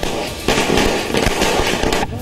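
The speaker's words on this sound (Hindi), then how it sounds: "पटाखे जलाकर भारत में जश्न मनाया" Firecrackers burst in rapid, irregular volleys during nationwide street celebrations in India, loud and dense crackling with sharp pops piling over one another, no one speaking.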